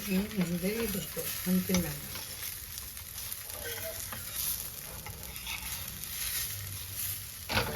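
A ragi talipattu, a finger-millet flatbread, cooks in oil on a pan with a gentle, continuous sizzle and occasional scraping. A voice is briefly heard near the start.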